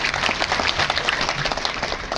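An audience at a Hindi Day ceremony in Jaipur gives hearty applause for an honouree, a thick, even roar of clapping that stays strong for the whole stretch.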